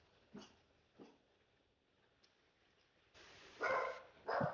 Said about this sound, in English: oh, the dog's barking